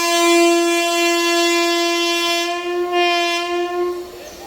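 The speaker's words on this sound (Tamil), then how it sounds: "சவுண்டு போட்டாச்சுன்னா வண்டி எடுத்துருவாங்க. வண்டி கிளம்புது." A train horn blares loud and close in one long sustained blast, then fades slightly as the train pulls away from the station.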